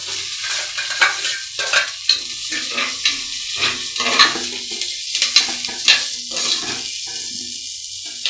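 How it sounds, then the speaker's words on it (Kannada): Food frying in oil in a home kitchen, a continuous sizzle broken by repeated stirring scrapes and clatters at an uneven rhythm, close and fairly loud with no voices. "ಇದನ್ನ ಒಂದು ಐದು ನಿಮಿಷ ಎಣ್ಣೆಲಿ ಮತ್ತೆ ಫ್ರೈ ಮಾಡ್ಕೊತೀನಿ"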